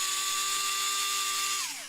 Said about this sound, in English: if you do use the cordless drill